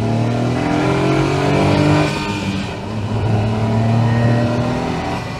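A Honda S660, a tiny mid-engined sports car, pulls hard in second gear on a country road in Devon. Its small engine revs up loudly and steadily, dips briefly mid-pull, then climbs again close to the listener, with no talking.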